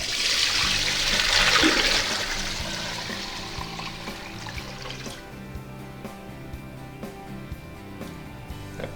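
A second gallon of brine concentrate glugs over whole turkeys in a container. The close, heavy rush of liquid builds, then tapers into trickles and faint drips.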